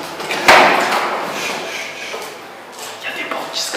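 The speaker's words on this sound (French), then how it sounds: "Il y a des portes qui se claquent alors que les fenêtres sont fermées" A door slams hard inside an empty abandoned hospital, one sharp loud bang followed by a long reverberant decay down the corridor, with a few faint thuds and shuffles later in the room.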